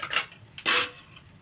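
Rava chilla, a semolina pancake, turned over in a pan, with two quick clinks of the spatula against the metal pan, the second louder and broader, over a soft background hiss.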